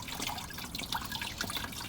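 Coolant drains from a 2008 Ford Territory into a bucket with a continuous close trickle and splatter, and small drips fall through it.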